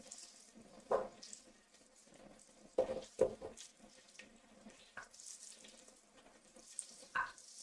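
Food frying in hot oil while being stirred, a soft steady sizzle broken by a few scraping knocks of a utensil against the pan, close and fairly quiet.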